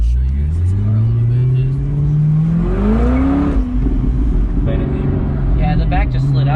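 A 2016 McLaren 650S engine revs loudly and close, with rising and falling pitch and a sustained drone. A person talks over it.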